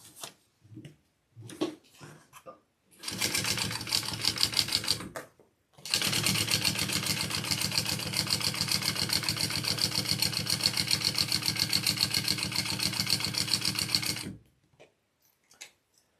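A sewing machine stitches layered vinyl for a shoulder bag, starting with a few short bursts, then running in a steady rapid clatter for about two seconds, pausing briefly, and running for eight more seconds before stopping, loud and close.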